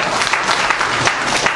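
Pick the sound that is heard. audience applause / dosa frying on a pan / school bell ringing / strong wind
audience applause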